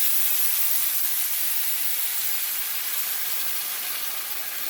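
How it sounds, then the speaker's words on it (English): Vegetable broth hisses loudly as it is poured and stirred into a hot pan of browned quinoa and kale, a steady close spray-like sizzle that holds evenly throughout with no voice over it. "now we're going to stir in the broth, the chickpeas"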